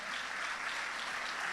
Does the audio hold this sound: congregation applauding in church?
yes